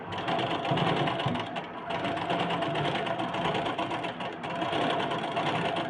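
An electric sewing machine runs steadily, stitching blouse fabric with a continuous fast whirring hum, pausing only briefly twice, close and without talk.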